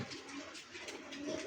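Young pigeons give a short, soft cooing murmur at close range, faint and unbroken by speech, cutting off abruptly.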